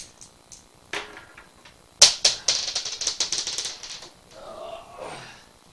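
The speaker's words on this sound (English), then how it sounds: "I'm going to roll both dice same time." Two dice rattle and clatter across a table in a tabletop wargame, a sharp first hit followed by a quick run of small bouncing clicks that settle, then a soft shuffle.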